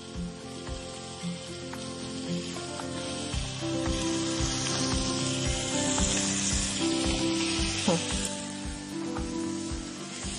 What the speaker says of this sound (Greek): τηγανίσαμε το ψαρονέφι